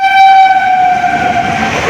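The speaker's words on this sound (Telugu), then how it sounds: "ఇట్లా అని ట్రైన్ వస్తుంది అంతే." A passenger train pulls into a platform on the Hyderabad to Manmad route, its horn blaring as one loud, sustained blast that holds steady before easing slightly, with rumbling wheels beneath it.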